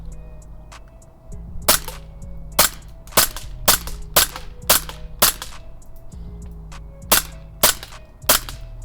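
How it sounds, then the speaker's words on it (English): An XD BB pistol fires at targets about 40 feet away: a string of sharp, snappy shots, some spaced and some in quick pairs, with a steady background hum and no talking. "Time for a test fire. This is at a distance of approximately 40 feet."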